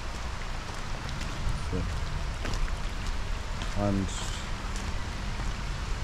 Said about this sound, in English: Actually, the rain is not raining that much hard, so I can walk in the rain without an umbrella.